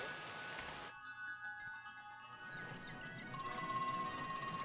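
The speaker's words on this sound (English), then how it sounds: "It's a phone going off." Telephone ringing in the horror video game Crow Country, tonal electronic ringing that breaks off then returns brighter and louder near the end, over a soft rain-like ambient hiss.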